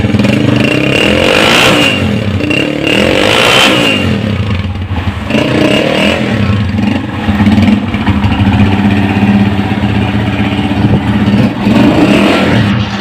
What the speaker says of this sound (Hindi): इसका सलेंसर का साउंड भी आपको सुना देता हूँ।